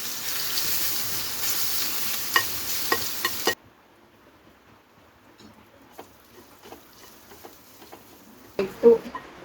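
Crushed ginger and garlic drop into hot oil with fenugreek and mustard seeds, giving a loud sizzle with stirring clatter for a few seconds before cutting out, followed by faint kitchen sounds and a couple of sharp knocks.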